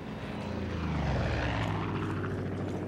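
A video game propeller airplane engine drones continuously at close range, a steady buzzing hum with a slight rise and fall in pitch.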